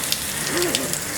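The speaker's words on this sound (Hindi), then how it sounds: "तेल गरम हो गया, अब हम इसमें डालेंगे ये राई, जीरा, हींग" Mustard seeds, cumin and asafoetida crackle in hot oil for flat bean sabji, a soft steady sizzle with scattered pops; a voice briefly intrudes midway.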